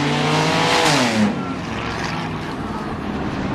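Cars racing in the appliance race at Langley Speedway, a dense roar of engines with one rising, sweeping pitch as a car passes, followed by a steady broadband drone of the pack.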